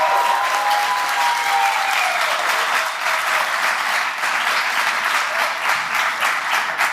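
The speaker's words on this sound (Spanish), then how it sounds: "un aplauso para él" Steady, enthusiastic applause from an audience at a project pitch event fills the whole stretch, a dense patter of many hands clapping at close range.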